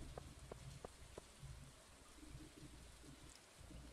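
Rain falling in the Stardew Valley video game, a faint, steady patter and hiss throughout, with a few light taps early on and no voices.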